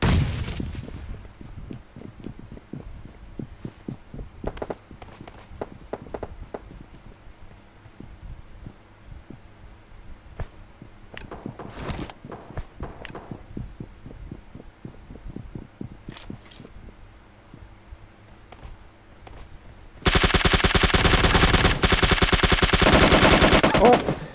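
Video game gunfire rattles in sharp bursts and single shots over a low hum, scattered through a quiet stretch before a loud, dense burst of shooting near the end.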